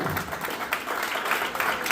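Audience applause and cheering at a comedy show in a brewery taproom, a steady wash of clapping that holds for about two seconds with no pause.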